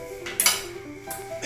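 Corn goes into a pot of water on the stove for baby food, a couple of quick metallic clinks and a small splashy knock against the pot, fairly quiet and close.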